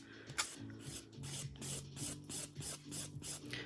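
A fingernail being filed with a nail file during gel nail work: a steady rhythmic rasp of back-and-forth strokes, about three per second, close and moderately loud, with a low hum underneath.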